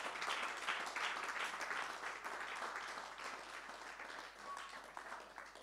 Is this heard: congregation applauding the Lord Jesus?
yes